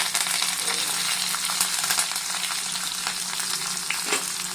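Curry leaves and mustard seeds sizzling and popping in hot oil in a pan while cooking ladies finger poriyal, a steady close frying hiss with scattered sharp crackles and spits throughout.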